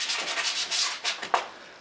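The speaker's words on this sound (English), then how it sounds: "So I'm going to come down here now and sand this one here." Sandpaper rubs across a hardwood stair tread, a close, steady hissing scrape in several back-and-forth strokes.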